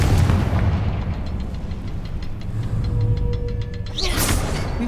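From the Hogwarts Legacy video game, a Confringo blasting spell explodes with a deep, rumbling boom that rolls on, followed by crackling debris and a sharp burst near the end, all loud and without speech.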